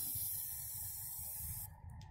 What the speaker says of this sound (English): Is that real spray paint?